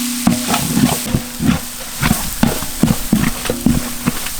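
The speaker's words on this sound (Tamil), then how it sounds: "எண்ணெயில் நல்ல வசக்கணுமுக்கா." Pounded masala and green chilli, added with tomato, frying in oil in an outdoor village kitchen, with repeated scraping stirs over a steady sizzle, close and fairly loud.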